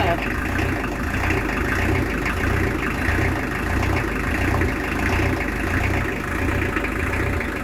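A boat's diesel engine idles at close range with a steady, throbbing low rumble that never lets up, while voices are faintly audible underneath.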